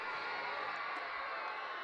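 Crowd at a Thursday afternoon minor-league baseball game between Memphis and Iowa, a faint, steady murmur of spectators with a few distant shouts, no single voice standing out.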